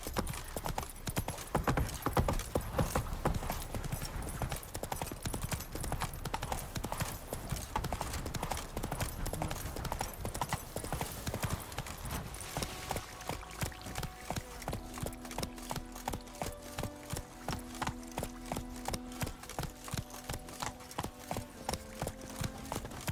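Hooves of a galloping horse in The Witcher 3 beat out a steady rapid clip-clop rhythm, loud and close, with game music rising underneath in the second half.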